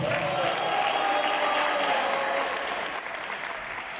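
Audience applauding award recipients, priests honored at a diocesan teachers' gathering, a thick continuous round of clapping from a large crowd that holds steady then eases slightly near the end.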